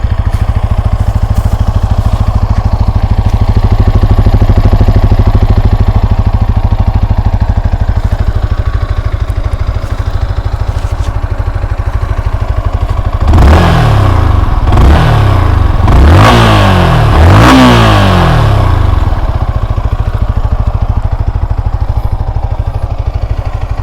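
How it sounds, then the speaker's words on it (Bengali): A 2024 Yamaha R15M BS7 motorcycle idles with a steady, loud exhaust burble, then its engine is revved in four quick sharp bursts that climb and fall back to idle, heard up close. "আর এক্সস্ট সাউন্ড শুনিয়ে দিচ্ছি কেমন এক্সস্ট সাউন্ড"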